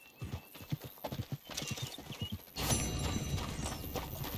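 Horse hooves clip-clop on a road in Red Dead Redemption 2, a run of distinct close beats that gives way to a louder, denser stretch of movement and rustle near the end.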